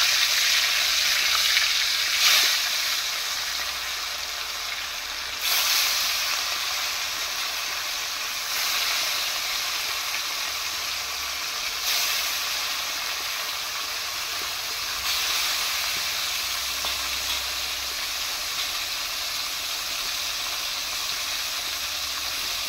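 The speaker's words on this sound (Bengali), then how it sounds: "তেল গরম হয়ে গেছে, আমি এই তেলের সঙ্গে মাছগুলো দিয়ে দিচ্ছি" Pieces of rohu fish fry in hot oil with a steady, close sizzling hiss that surges several times at regular intervals, with no talking.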